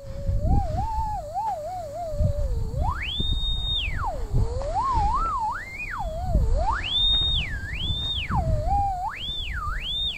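An electric line locator traces a buried power line, emitting a sweeping warbling tone that rises and falls in pitch repeatedly, steady and fairly clear over low rustling handling noise.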